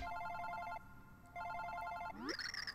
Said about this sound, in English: Oh, wait, that is my phone.